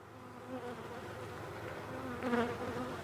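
Honey bees buzzing around an open hive full of dark comb and brood, a steady droning hum close by that holds throughout and swells slightly near the end.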